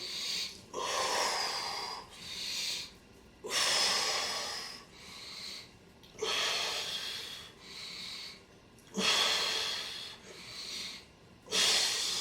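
Repeated loud, breathy inhalations and exhalations during a fitness workout combining cardio and arm strengthening, coming in regular bursts of roughly two to three seconds, close and clear with no talk.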